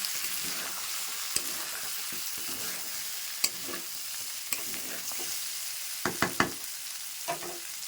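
About half a kilo of medium fish cooks in a pan, a constant close sizzle broken by scattered scrapes and knocks of a spatula, with a quick cluster of taps near the end.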